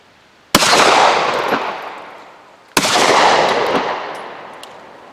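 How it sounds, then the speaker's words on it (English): Two sharp pistol shots from a small pocket .380 firing Hornady Critical Defense ammunition, each a loud close crack followed by a long echoing decay, spaced about two seconds apart with no talk. "here we have Hornady Critical Defense, the same ammo, fired through a little pocket 380"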